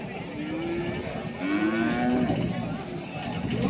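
At a busy cattle market, a cow gives a long, low moo that rises and falls. It carries over a steady crowd murmur and other livestock noise.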